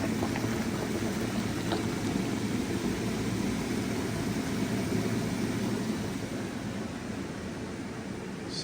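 A steady, dense bubbling and hissing of maple sap boiling in a pan continues throughout, even and close, with no voices.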